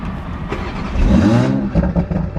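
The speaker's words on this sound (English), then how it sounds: "I love the startups on these cars" A tuned Mk5 Toyota Supra engine fires up and revs hard, a loud rising roar that peaks and settles into a rumbling idle with a few blips.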